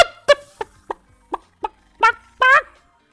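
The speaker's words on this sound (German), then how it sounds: "Warum bin ich ein Huhn geworden?" A video game chicken lets out a run of short, close clucks, spaced about every third of a second, ending in two longer, louder squawks, with no talking.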